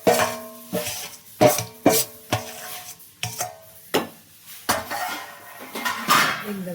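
Spoon stirring a sticky date and dry fruit laddu mixture in a pan, a series of rhythmic clanks and scrapes against the metal, close and distinct, with no talk.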